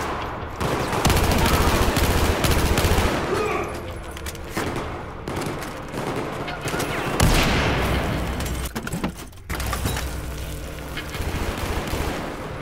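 Battlefield 4 deck-fight gameplay fills with dense gunfire, rapid automatic bursts and heavy booms layered over loud game noise, with a player's voice speaking over the shooting.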